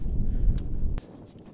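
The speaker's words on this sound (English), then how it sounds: "I'm so sorry about the wind." Prairie wind buffets the microphone in a cornfield, a low rumbling gusty roar that cuts off abruptly partway through, leaving only faint background.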